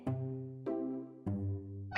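A cat meows three times in even succession, each call clear and close, with a brighter sound starting at the very end.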